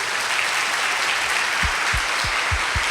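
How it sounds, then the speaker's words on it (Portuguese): Dense, sustained applause from a church congregation fills the whole stretch, with a few heavier low thumps near the end. "uma salva de palmas para eles"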